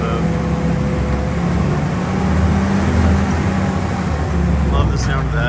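A vintage Willys CJ2A Jeep drives along a property test track, its engine a steady low rumble with road and wind noise throughout, close and loud, a brief voice near the end.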